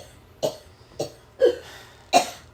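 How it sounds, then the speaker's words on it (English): A woman gives four separate, sharp coughs spaced roughly half a second apart, close and clear against a quiet room. "she starts coughing right when I'm talking"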